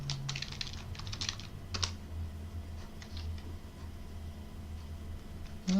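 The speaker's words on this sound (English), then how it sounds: "Let me type the whole thing in again." Someone types on a computer keyboard while setting up Arch Linux in VMware. Quick, uneven bursts of close key clicks come in flurries, then slow to scattered taps against a quiet background hum.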